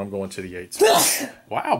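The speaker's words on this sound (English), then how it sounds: "You're all frazzled from your big giant sneeze, aren't you?" A single loud, explosive sneeze bursts out close by during a tabletop board game session, with people talking just before and after it.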